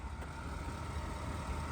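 A Porsche Cayenne 957 with a sleeved 4.8 V8 runs at a steady, low, purring idle, heard close up and fairly quiet throughout the short stretch.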